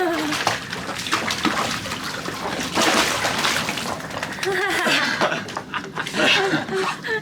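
A small dog falls off a sailboat into the water and swims, with splashing and sloshing heard close by under steady chatter and a chuckle from people nearby.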